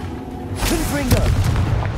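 Confringo fire blast spell cast in the Hogwarts Legacy video game, a short loud booming burst with crackle, heard alongside a voice shouting in combat.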